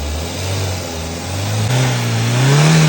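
The engine of a Maruti Swift car, being pushed toward overheating with its cooling fan disconnected, revs up loudly and close by, its pitch climbing in steps as the accelerator is pressed.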